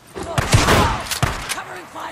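Gunfire from the video game Days Gone, a burst of loud, close shots and echoing blasts in quick succession, with a voice talking over part of it.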